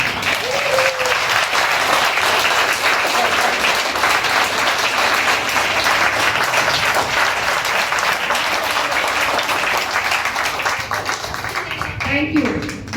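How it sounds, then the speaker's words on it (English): Audience of around two hundred clapping in a hall, a sustained loud burst of applause that continues evenly and thins out near the end, with a voice briefly audible over it. "I would all of you request that to give her another round of applause together."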